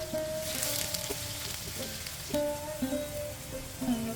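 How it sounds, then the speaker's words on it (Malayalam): Sliced shallots frying with mustard seeds in a pan for a Kerala raw mango curry, a steady soft sizzle with scattered sharp pops and crackles, close and without speech. "ഇനി ഇതിലേക്കൊന്ന് കടുക് തളിച്ച് ചേർക്കണം പാനിലേക്ക് ഒരു ടീസ്പൂൺ ഇട്ട് പൊട്ടിക്കാം നാലഞ്ച് ചെറിയ ഉള്ളി വട്ടത്തിൽ അരിഞ്ഞതും ചേർത്ത് ഒന്ന് ചുവക്ക മോപ്പിക്കാം"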